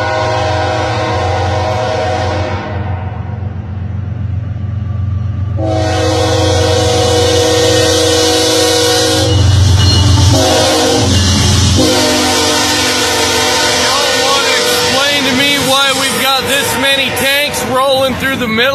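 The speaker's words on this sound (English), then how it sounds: "You hear that train coming?" A loud train horn blares in long blasts as a train rumbles close by in North Dakota, wheels clattering, with talk partly buried beneath.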